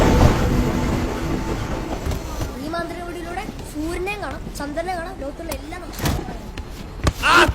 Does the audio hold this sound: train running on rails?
yes